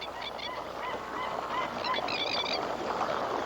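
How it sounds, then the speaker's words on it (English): A large flock of wild birds gathered at a remote New Guinea site calls continuously, with overlapping honking and chattering cries forming a dense, steady chorus at middle distance. "birds congregate here in enormous numbers"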